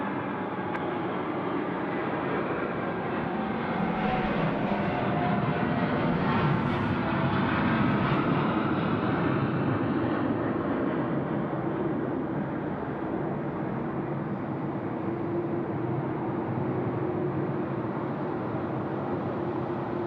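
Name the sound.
Boeing 787 departing Sydney Airport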